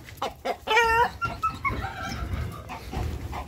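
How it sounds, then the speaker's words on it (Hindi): Chickens and roosters clucking close by in a yard where a dog has got in, a run of loud squawks and clucks in agitated bursts. "मुर्गों का शोर"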